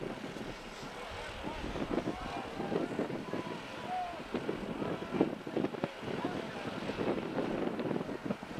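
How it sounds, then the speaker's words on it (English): Wind gusts outdoors at a lacrosse state championship game, rumbling and buffeting the microphone beneath a commentator's steady talk. "Wind starting to pick up."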